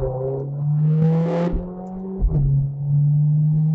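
A SEAT Leon FR (1P) sport hatchback accelerating, engine note climbing steadily in pitch, dipping briefly at a gear change, then rising again, loud and close.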